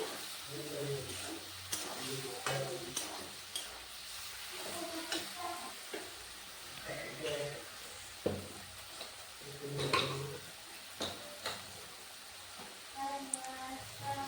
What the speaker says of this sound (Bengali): এবার ভালো করে সয়াবিনটা মশলার সাথে কষে নিতে হবে